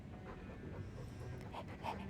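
In the video game Dragon Age 2, a dog pants quickly and softly at close range, a brief run of rhythmic breaths with a faint whine near the end.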